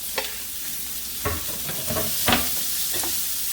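Chopped garlic and green peppers fry in bacon fat in a pan with a constant hissing sizzle, broken by several sharp clacks of stirring against the pan.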